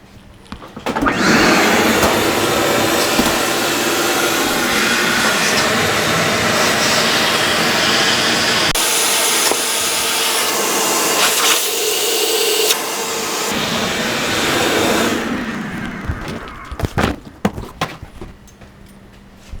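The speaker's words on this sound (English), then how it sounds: "Let's try our wet dry vac and see if that helps." A loud wet-dry vacuum roars steadily, its tone shifting as it pulls gurgling water from a water heater pipe, then cuts off, leaving a few clunks and rattles.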